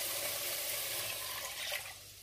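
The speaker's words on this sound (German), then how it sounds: "Und jetzt gießen wir das Ganze mit 360 ml kaltem Wasser auf," Cold tap water pours into a casserole dish in a steady, close, rushing stream that tapers off slightly near the end.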